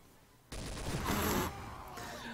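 Video game gunfire in Trouble in Terrorist Town: a loud, dense burst of rapid shots erupts abruptly and lasts about a second, then gives way to a lower, rougher din of game noise.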